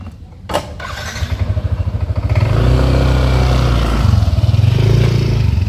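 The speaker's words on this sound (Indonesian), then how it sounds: "Rian menghidupkan mesin motor dan tampak asap motor keluar dari knalpot motornya" A motorcycle engine cranks and catches, then settles into a steady, loud, rumbling idle with a rapid pulsing beat.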